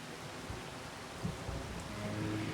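Rain falling around a Montana farm in a roleplay game: a soft, steady hiss of rainfall with faint low rumbles and a few small bumps.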